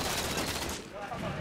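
Rapid bursts of video game gunfire from a competitive team shooter match at a 2013 New Jersey tournament crackle briefly, fairly faint, mixed with players' voices.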